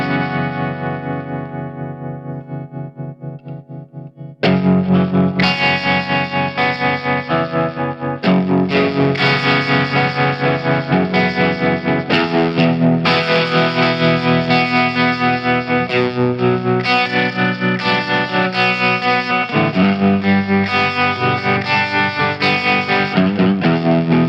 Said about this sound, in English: Very characterful tremolo, or on the other side,